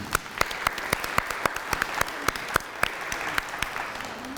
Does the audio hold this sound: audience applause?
yes